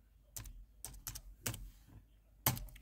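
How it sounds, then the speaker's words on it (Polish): Close, quiet keystrokes on a computer keyboard as a username and password are entered, coming in short irregular bursts of several taps with brief pauses between. "Piszemy sobie nazwę użytkownika OZ4Home i hasło wpisujemy to, które wcześniej"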